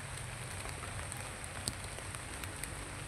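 Rain falls steadily as a soft, continuous hiss with scattered drop taps, fairly quiet and even throughout, with no talk over it.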